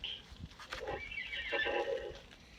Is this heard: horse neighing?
yes